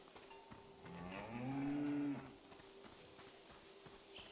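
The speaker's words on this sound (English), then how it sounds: "a beautiful cow named Gorp." A cow in the video game Season: A Letter to the Future gives a single loud, drawn-out moo that swells and fades over about a second, with quiet ambience and no talking around it.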